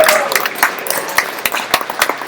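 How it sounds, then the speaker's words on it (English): An audience at a startup pitch night in a downtown speakeasy applauds, a steady patter of many hands with some louder individual claps standing out near the front. "So please give a huge round of applause for Haley Altman from Doxley."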